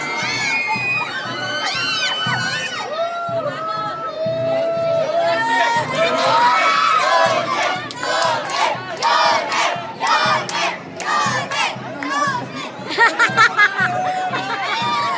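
A crowd cheers for young bowlers with loud, excited shouts and whoops, many voices overlapping in bursts that rise and fall, and children yelling among them.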